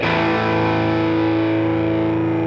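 Electric guitar played through an effects pedal, a sustained distorted chord ringing out steadily, loud and alone with no talk.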